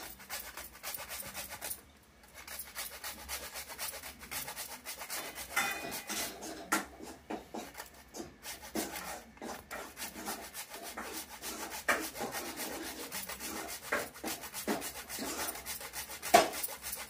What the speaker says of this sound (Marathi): आता जायफळ किसून टाकते.